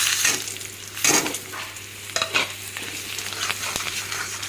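Spices such as panch phoron, green chilli, cumin, coriander, turmeric and dried chilli powder frying in a pan, giving a close sizzle broken by several sharp stirring scrapes, with a low steady hum beneath and no speech.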